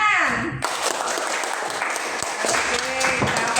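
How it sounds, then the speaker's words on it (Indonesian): Students in an Indonesian school classroom break into dense, continuous applause right after a brief spoken line. The clapping stays loud and steady throughout, and a voice briefly rises over it near the end. "Kasih tepuk tangan."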